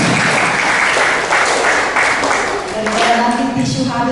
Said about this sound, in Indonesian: kita berikan sedikit aplaus sukacita untuk Frater